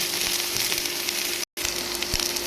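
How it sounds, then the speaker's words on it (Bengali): Potato pieces frying in hot oil tempered with cumin seeds give a steady, close sizzle and crackle with faint stirring clicks, broken by one brief silent gap. "আলুটাকে আমি শুধু তেলের মধ্যে জিরে ফোড়ন দিয়ে বেশ ভালো করে ভেজে নেব"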